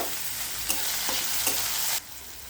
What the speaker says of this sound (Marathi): कांदा टमाटो भाजला जातो